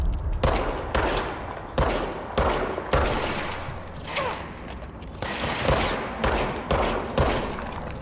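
Bursts of automatic weapon fire in the video game Control, repeated volleys of rapid shots each lasting about half a second, loud and close, separated by short gaps.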